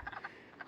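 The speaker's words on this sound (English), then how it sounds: "You can hear all the frogs again." Frogs croaking at night by a pond, several short rhythmic croaks repeating close by against a quiet background, with no voices.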